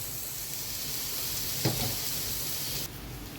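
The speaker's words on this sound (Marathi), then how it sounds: "मी सगळ्या वड्या कमी तेलात थोड्या काढून घेते" Massvadi fry in a little oil with a steady, soft sizzling hiss, broken by one brief louder crackle midway, and no one speaking.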